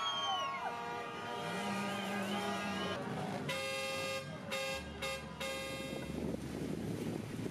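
Line of cars honking in a main street celebration parade in El Bolsón, with a mix of long sustained horn blasts and short repeated toots at moderate distance, no talking.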